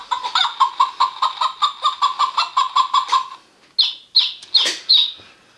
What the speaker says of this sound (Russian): Курица, цыпленок.